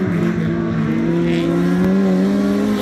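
A rallycross race car engine revs close by, its strong tonal drone rising steadily in pitch as the engine climbs, loud and sustained with no talking.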